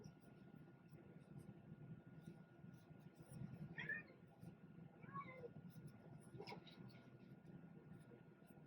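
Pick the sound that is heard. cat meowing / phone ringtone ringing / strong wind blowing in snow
cat meowing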